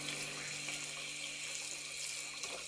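Hot water runs steadily from a tap into a sink, a continuous broad hiss and splash at low level, heard alone without any voices.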